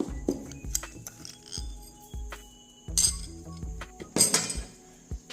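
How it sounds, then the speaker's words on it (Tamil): Egg and sugar beaten together in a bowl for a bread toast recipe, the utensil clinking and tapping against the bowl in a quick, uneven rhythm, with a couple of louder clattering bursts. "எக்கும் சுகரும் போட்டு நல்லா பீட் பண்ணிட்டோங்க"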